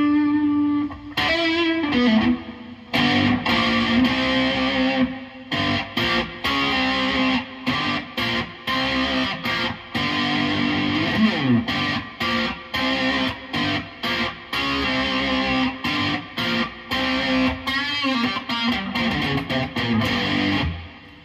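Gibson SG Robot Limited Edition electric guitar, made in USA, played through effects: choppy distorted chords and single notes, punchy and close, with frequent stops and rhythmic strumming throughout.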